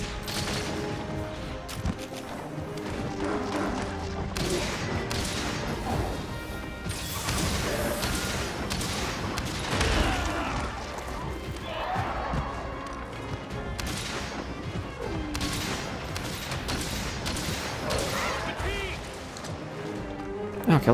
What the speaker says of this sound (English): Light bowgun feels like a fast-paced auto-fire cannon